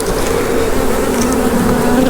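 Honey bees buzz around hive frames during a colony split, a dense continuous drone of many wings, loud and close with no talk.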